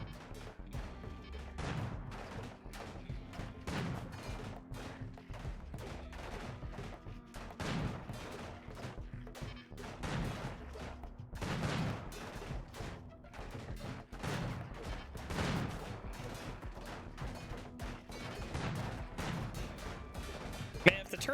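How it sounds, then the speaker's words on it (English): Game turrets firing in repeated bursts, heavy thumping volleys every couple of seconds over a steady rattle, mid-distance and moderately loud. "If the turrets could just actually hit their damn shots, that would be great."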